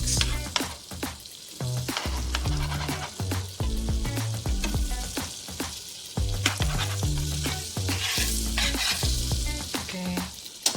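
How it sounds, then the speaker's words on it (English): Butter being mixed in a bowl for a grilled fish recipe, heard as a steady run of stirring and scraping strokes with soft clinks, fairly close and continuous, with no talking. "we need to mix our butter first."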